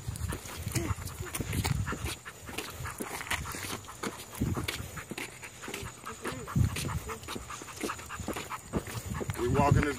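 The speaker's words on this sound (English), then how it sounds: "Walking this dog." A dog being walked outdoors pants heavily and rhythmically in quick bursts close to the microphone, with footsteps and a voice talking intermittently over it.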